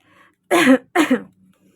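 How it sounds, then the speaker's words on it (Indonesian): Two sharp coughs in quick succession, close and fairly loud, with quiet surroundings before and after. "Batuk dulu, batuk."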